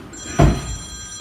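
A telephone rings once in a home office, a brief bright ring that starts with a soft thump and fades quickly in a quiet room.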